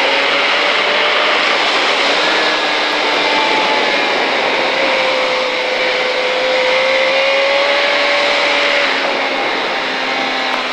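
A 2005 KTM Superduke motorcycle accelerates hard on a track at Pau, its engine note rising in a loud, sustained whine with wind roar over about eleven seconds, no voices.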